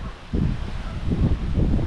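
Steady low wind on a gloomy, chilly day at a beachside cemetery in Ormond Beach, Florida buffets and rumbles against the microphone in uneven gusts, with no voices.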